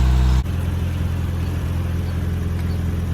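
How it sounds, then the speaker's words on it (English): A warmed-up 1992 Toyota Pickup engine idles with a low, steady rumble after a brief louder moment at the start, running evenly and close by. "As you can hear, now that she's warmed up a bit, the idle came down, sounding good."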